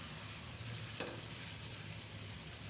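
Broiler chicken pieces fry in a pan with chili powder, coriander powder, meat masala and salt, giving a steady, quiet sizzle with one brief stirring knock partway through.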